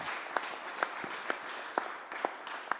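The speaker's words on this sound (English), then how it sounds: "a big round of applause is for you as well for pulling this event off" Sparse, quiet audience clapping at a closing plenary session of an event in Lyon, France, soft patter with a few sharper claps standing out at an even pace.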